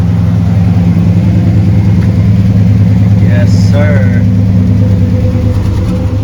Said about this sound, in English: I hear some exhaust leaks, though